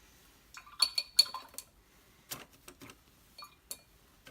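A tool clinks and scrapes inside a small container while materials are mixed together, with scattered light taps and short bursts of stirring, close and fairly quiet, separated by brief pauses.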